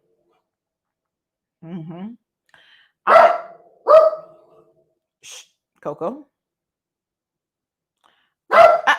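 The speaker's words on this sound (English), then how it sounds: "Barking at the chickens again." A dog gives a few sharp, separate barks at close range, with a quiet voice speaking briefly between them.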